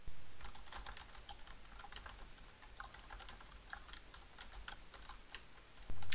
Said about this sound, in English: just type in a quick lesson description